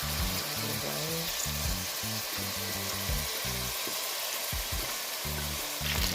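Fried dumplings sizzle in a pan alongside ackee, a continuous close crackling fry with bubbling pops and a few low clunks, like handling in the pan, running throughout with no speech.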